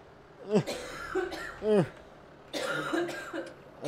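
Several coughs in quick bursts, mixed with vocal sounds like brief chuckles, close to the microphone, during a Farming Simulator 19 live stream.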